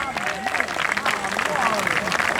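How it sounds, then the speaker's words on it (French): A festival crowd applauding after the Mesclazik 2024 Yvette Sound System set, dense continuous clapping with a few cheers mixed in, loud and close. "On peut les applaudir très fort pour ce très joli festival."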